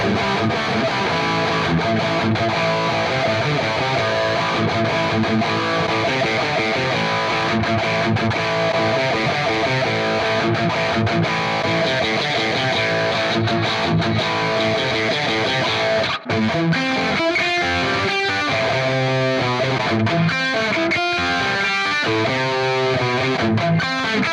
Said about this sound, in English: now it's a little bit more of like a crunch amp, so it's like hard rock